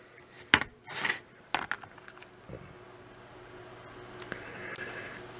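Inexpensive metal wrenches clink and clatter as they are rummaged through and picked out, giving a few sharp close jingles followed by quieter handling noises.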